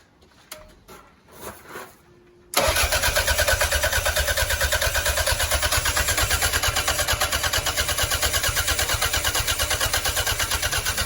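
A Toyota MR2 GT Turbo with a failed fuel pump cranks without catching: after a few quiet handling sounds, a loud, steady, rhythmic starter churn begins and runs on without pause.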